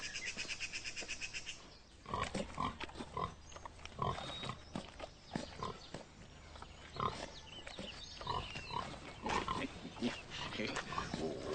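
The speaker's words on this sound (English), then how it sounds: "The finest pig in the county." A prize pig on an English country estate grunts and snorts repeatedly in short bursts after a brief quiet start, close and fairly loud, with voices around it.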